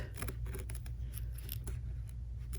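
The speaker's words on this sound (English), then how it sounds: "now I'm just going to use my little perfect scissors" Quiet, repeated snips of small embroidery scissors trimming fabric at a BERNINA embroidery machine, irregular in rhythm, over a low steady hum.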